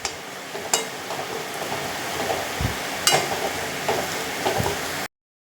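Chillies fry in a pan for a lentil curry, a low continuous sizzle close by, broken by a few sharp clinks and scrapes of stirring, then cut off abruptly at the end.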